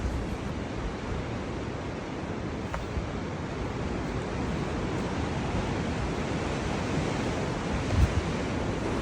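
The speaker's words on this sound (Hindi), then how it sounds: "क्या आप सुन सकते हैं लहरों की आवाज़?" Ocean waves crash on the rocks at Diamond Bay in Sydney, a loud continuous roar of surf with wind buffeting the microphone and no voices.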